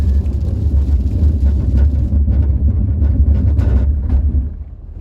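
An Audi S4 with quattro all-wheel drive and winter tyres brakes from 70 km/h on a snowy, icy road, giving a loud, steady low rumble of road and wind noise that drops away near the end.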